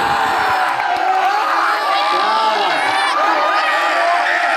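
An audience at a mushaira (Urdu poetry gathering) in Jalgaon roars with loud, sustained cheering, whoops and shouts, a dense crowd noise that fills the whole moment.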